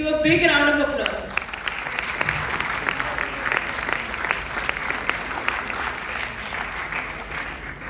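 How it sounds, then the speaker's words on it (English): A conference hall audience at an international yoga conference bursts into sustained applause during a felicitation, the clapping steady and full for several seconds after a voice briefly speaks at the start. "Let's give a big round of applause"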